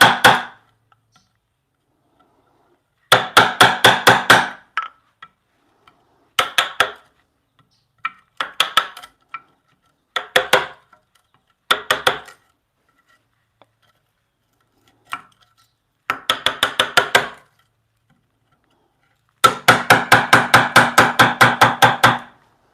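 A mallet strikes a chisel in quick bursts of sharp wooden knocks while a mortise is carved into a wooden bunk bed rail, with clusters of blows separated by brief pauses, close and crisp.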